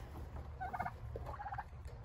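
Turkeys kept shut in on a homestead give two quick bursts of gobbling, heard a little distant over a low background hum.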